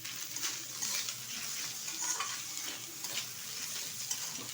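Pangas fish bharta with chopped onions is stirred in a hot pan, with a steady sizzle of frying under soft scraping strokes, close and continuous.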